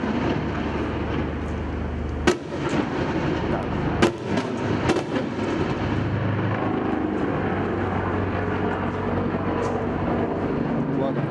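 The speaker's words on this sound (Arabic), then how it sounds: "هو رصاص قنص، وهذه قذائف المورتر" Sniper gunfire and mortar shell fire on the right bank of Mosul, sharp distant cracks and heavier booms scattered over a constant low rumble of combat, with a reporter speaking over it.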